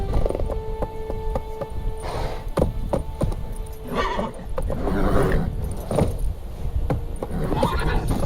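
Roach the horse gallops in The Witcher 3, rapid clip-clop hoofbeats with a neigh and whinny, a steady drumming gait over game music and ambient sound, with no talk.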